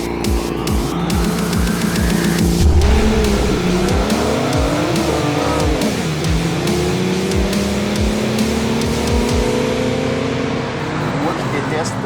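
A BMW M2 and a Cadillac ATS-V launch from a standing start on a track, engines roaring loudly as they rev up through the gears, with tires squealing and someone talking over the noise.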